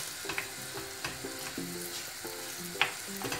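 Bulgur toasting in oil in a pot sizzles quietly while a spoon stirs and scrapes against the pot in an irregular rhythm, heard close with no talk.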